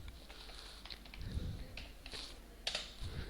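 Code is typed on a computer keyboard, with faint, uneven clusters of key clicks and a few sharper taps over a low background hum.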